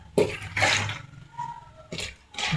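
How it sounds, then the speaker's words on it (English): Water sprinkled onto shirt collar fabric during ironing, a few short hissing spritzes in separate bursts, close by, with quiet gaps between them. "Sprinkle a little water."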